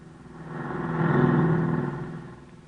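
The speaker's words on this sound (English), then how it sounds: "That car never stopped neither." A car passes on a highway in an old radio drama, its engine swelling up from a distance to a close peak and then fading away in a smooth drive-by, with no talk.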